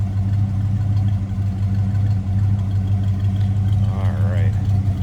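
A 1965 Oldsmobile Cutlass convertible's 330 V8 idles nearby with a steady, even low rumble, and a brief wavering sound rises over it near the end.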